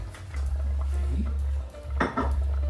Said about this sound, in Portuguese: vamos dar aquela misturadela